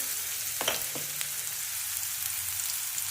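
Chopped onion frying in a pan until golden, a steady soft sizzle with a couple of brief stirring scrapes near the start, no voices.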